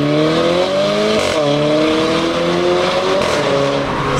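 A Renault Clio 4 RS with a stage 3 tune accelerates hard, and its exhaust crackles and pops close and loud over a rising engine note, with a brief break near the middle.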